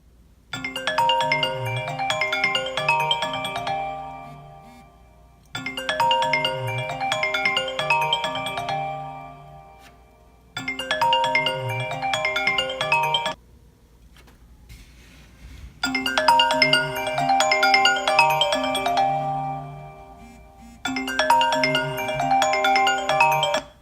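A melodic incoming-call phone ringtone plays in five repeated bursts separated by short silences, loud and clear with no voices.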